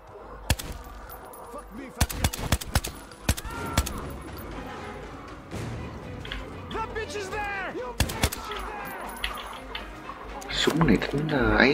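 Gunfire in the video game Metro Exodus: sharp, loud single shots and short bursts, several in quick succession, with someone speaking Vietnamese over the gameplay between the shots.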